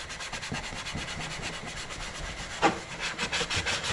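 Sandpaper rubs back and forth over a Mazda Miata center console to scuff its paint, a steady dry scratching with one brief louder scrape near the end.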